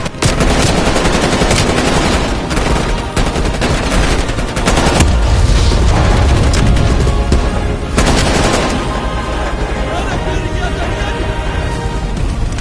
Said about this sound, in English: You handle the shooting, okay?